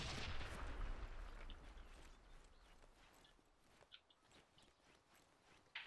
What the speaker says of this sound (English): Sonics, do you know what that explosion was? Sounded like a grenade.